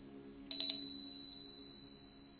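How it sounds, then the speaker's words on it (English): A small handheld bell is rung during a tarot reading: three quick, bright strikes close by, then a clear ringing tone that slowly fades over a faint low hum. "Also a little bell for you."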